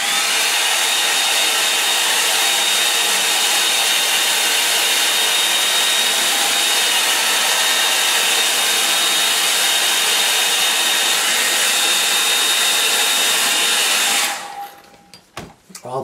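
A hair dryer blows steadily and loudly to dry a wet painting of the English fells, a continuous broadband whoosh lasting about fourteen seconds before it cuts off abruptly, leaving brief quiet handling noises.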